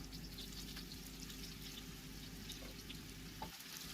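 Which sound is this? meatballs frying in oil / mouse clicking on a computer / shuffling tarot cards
meatballs frying in oil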